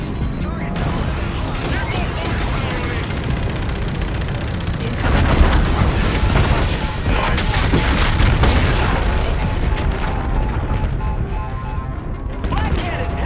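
Dense gunfire at gunships and booming explosions in Call of Duty: Infinite Warfare roll on continuously, loud and chaotic, with heavier blasts in the middle.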